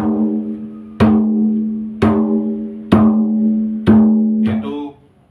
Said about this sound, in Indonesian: bunyinya seperti gong ya, seperti ini